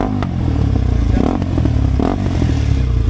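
Motorbike on a group ride revving loudly nearby, with sharp exhaust pops and crackling bursts over a steady engine drone.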